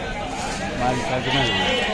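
Sheep bleat in the background at a Sunday livestock market amid steady outdoor noise and people talking nearby, the calls rising a little louder midway.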